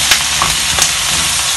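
Vegetables sizzle and crackle in hot oil for smoked herring fried rice, a loud, steady frying hiss with small pops throughout.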